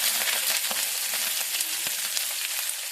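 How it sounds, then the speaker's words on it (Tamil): Mustard seeds, urad dal and dried and green chillies crackle and splutter in hot frying oil, a loud, close, continuous sizzle dotted with small pops and stirring scrapes, with no voices. "கடுகு பொரிஞ்சதும் நம்ம உளுத்த பருப்பு ஆட் பண்ணிப்போம்."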